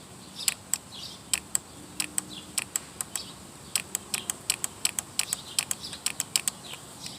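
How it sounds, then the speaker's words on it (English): Sharp, rapid clicking repeats in uneven bursts over a quiet hiss, like a small relay switching on and off. "I'll put some power to it, and let's see if we could hear it click"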